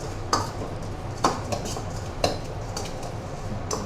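A utensil scrapes and clinks in a pan while stir-frying fried garlic. A few sharp metallic knocks land about once a second over a low background, close and moderately quiet.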